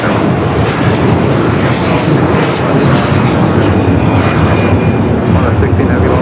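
An airliner taking off from runway 25 right at LAX, a loud continuous roar of engine noise that fills the whole clip, with radio voices from the control tower mixed in.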